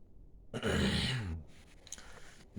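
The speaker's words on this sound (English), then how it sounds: "Clear my throat on that one." One near, throaty rasp of throat clearing, about a second long, followed by quiet rustling.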